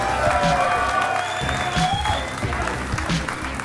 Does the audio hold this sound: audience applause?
yes